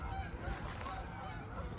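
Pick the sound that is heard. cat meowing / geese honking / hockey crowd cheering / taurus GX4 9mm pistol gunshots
geese honking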